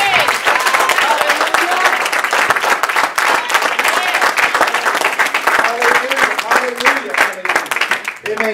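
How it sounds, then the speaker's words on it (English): A church congregation clapping their hands in praise, loud sustained clapping from many people with voices and music mixed in. "let's give the Lord a great big hand clap of praise"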